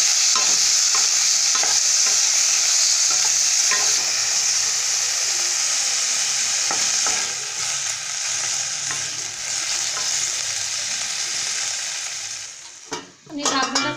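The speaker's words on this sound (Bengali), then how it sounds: "মাংসটা দিয়ে করে ভেজে নেব।" Chicken pieces stir-frying in a hot pan for homemade chicken fried rice, a loud steady sizzle with scraping stirs, easing slightly before clattery handling at the end.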